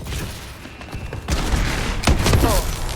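Shotgun blasts in a video game shootout, two or three heavy booming shots spaced a second or so apart amid loud battle noise, no talk.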